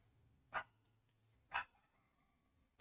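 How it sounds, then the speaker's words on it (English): A dog barks somewhere in the background, two single muffled barks about a second apart with the start of a third at the end, faint and distant. "the dog is barking, I don't know why"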